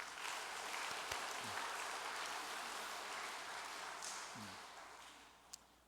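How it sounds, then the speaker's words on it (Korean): Audience applause of thanks at a Korean church assembly, a steady broad wash of clapping lasting throughout, fairly loud and even, tapering slightly near the end with no voices over it. "독생녀 참어머님께 감사의 박수를 한번 보내겠습니다"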